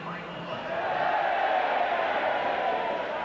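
Crowd at a 1993 St Helens versus Hull KR rugby league match, a broad sustained roar of many voices that swells after a second and holds steady and loud in the open stadium.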